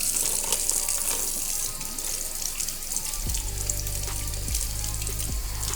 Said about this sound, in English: I get 8 large shrimps, and I do peel them, run them under water